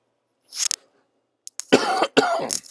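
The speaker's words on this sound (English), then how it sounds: "Sorry about the cough." A short throat-clearing sound, then a pair of harsh, close coughs in quick succession against otherwise quiet surroundings.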